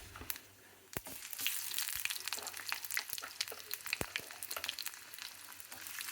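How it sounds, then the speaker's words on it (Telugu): Sliced onions and green chillies fry in a pan in a home kitchen, making a steady close sizzle with crackling pops and a few stirring taps. No one speaks. "ఉల్లిపాయలు, పచ్చిమిరపకాయ 2 వేసేసి ఇది వేగనివ్వాలండి"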